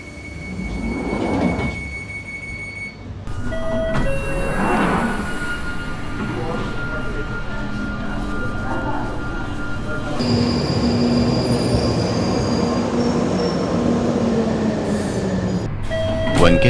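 A London Underground train departs Colindale station on the Northern line toward High Barnet. A near, loud rumble builds with rising motor whine, clunks and squealing wheels over a steady roar.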